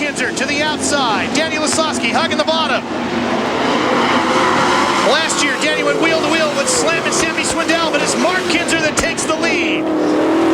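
Sprint race cars roaring around the dirt oval at the 1999 Knoxville Nationals, a loud continuous engine howl with pitch sweeps as cars pass, under constant excited commentary.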